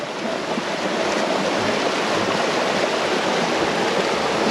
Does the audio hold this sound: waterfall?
yes